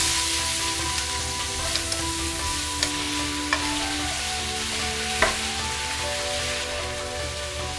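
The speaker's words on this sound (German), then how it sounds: "Öl in die heiße Pfanne, wenig 5 Gewürzpulver, ein Drittel Knoblauch in die Pfanne geben, Kartoffelscheiben auch dazu." Potato slices fry with garlic, oil and a pinch of five-spice powder in a hot pan, giving a steady close sizzle broken by a few sharp clicks of stirring.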